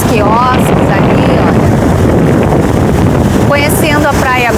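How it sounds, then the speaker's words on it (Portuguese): Strong wind buffets the microphone at Praia dos Anjos beach in Arraial do Cabo, a loud, continuous roar across the whole stretch, with faint whistling tones near the start and end. "tá ventando tanto aqui na Praia dos Anjos"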